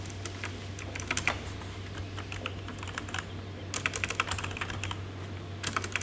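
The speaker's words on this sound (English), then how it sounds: "Let me type." Fast typing on a computer keyboard, irregular bursts of close key clicks with short pauses between them, over a steady low electrical hum and no talking.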